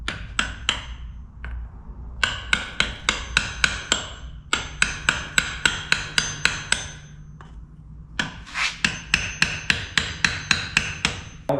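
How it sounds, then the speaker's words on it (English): A hammer taps an output shaft seal into an NP261 transfer case in quick bursts of sharp metallic strikes, close and loud, with short pauses between the runs of blows. "we're gonna put the output shaft seal in. So we're just gonna have to tap this thing in"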